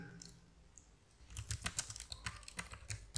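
Rapid keyboard typing as a comment is written in Microsoft Word, a dense run of soft, close key clicks over faint background hiss, with no talking.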